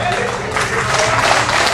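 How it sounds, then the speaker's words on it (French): Applause from a crowd at a French municipal election-list gathering, a dense continuous wash of clapping filling the whole moment at fairly close range. "Encore une fois, nous applaudissons bien fort, bien fort, bien fort, bien fort"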